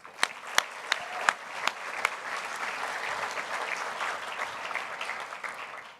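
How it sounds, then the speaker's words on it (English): Applause from an awards ceremony audience for hotel staff, opening with several sharp separate claps and swelling into steady, fairly close clapping that carries on for several seconds. "Just a quick round of applause."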